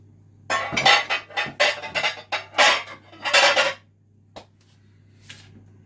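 Glass bowls clink and clatter against each other and on a hard surface in a home kitchen while baking gets underway, a quick run of loud, close rattling knocks followed by a couple of isolated taps.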